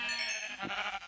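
Green-dyed sheep in Minecraft give a single short nasal bleat, up close and alone with no talk over it.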